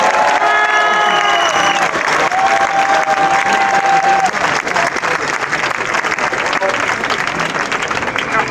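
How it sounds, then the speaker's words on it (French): Crowd applause at an outdoor street demonstration in Montpellier, a dense, sustained roar of clapping mixed with cheers and whistles, with crowd noise and voices throughout. "Je vous demande des petits applaudissements pour David."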